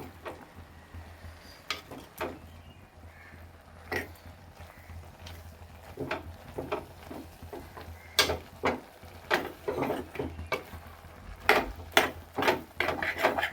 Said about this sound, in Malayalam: ഇനി അതൊന്ന് ഇളക്കി യോജിപ്പിക്കാം